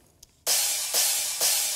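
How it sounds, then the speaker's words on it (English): Crash cymbals in an electronic dance track, soloed: three bright, washy crashes, the first landing after a brief near-quiet lead-in and the next two following at steady intervals, each sustaining into the next. "And that's the reason why I added some crashes there."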